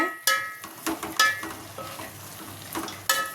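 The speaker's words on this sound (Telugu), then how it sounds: "కొంచెం ఫ్రై చేసుకోవాలి కొద్దిగా ఉడికించుకోవాలి నూనెలో ఆకులన్నీ మెల్ట్ అయ్యాక" Gongura leaves fry in oil in a pan, a soft sizzle under a few sharp stirring scrapes and clinks spaced through the moment, close and fairly loud.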